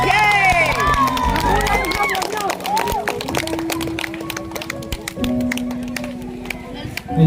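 Guests at a Baptist church wedding cheer and clap loudly for the newlyweds. Excited shouts and whoops rise over a crowd, then a long run of dense clapping carries on as voices fade.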